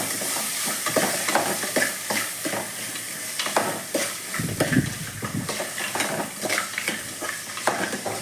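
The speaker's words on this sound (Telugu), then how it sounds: "ఇంకా సిమ్లో పెట్టి ఈ వేడికే వేగిపోతుంది టమాటా." Chopped tomatoes sizzle and fry in a pan on low heat, with occasional stirring scrapes and soft clinks of a spoon against the metal, close and steady.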